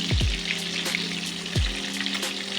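Spiced minced chicken keema fries in hot oil in a pan, a steady close sizzle throughout, broken by a couple of deep thuds and scraping stirs.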